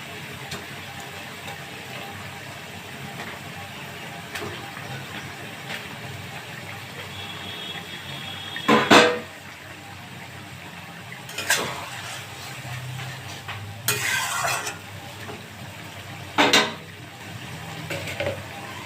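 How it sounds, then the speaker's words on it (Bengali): Bhola fish pieces go into a frying pan with long, slender black aubergine. A soft background sizzle is broken by several sharp, close clanks of a utensil against the pan, spaced a few seconds apart. "এবার আমি মাছগুলো দিয়ে দেব।"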